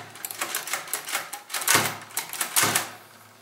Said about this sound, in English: doing all your typing